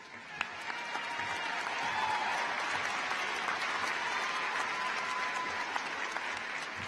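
A crowd at a 2016 high school graduation ceremony applauds continuously, a broad wash of clapping and faint cheers that stays even and sustained with no pause.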